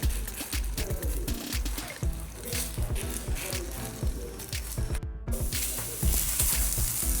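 Fish roe batter sizzles and crackles on a hot dosa griddle, steady frying with bursts of spitting pops and occasional stirring scrapes throughout, a short gap near the end.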